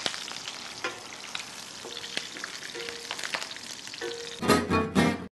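Aromatics sizzling gently in olive oil, a soft continuous frying crackle with scattered pops and faint stirring knocks, ending in a louder burst of sputtering, close and without voices.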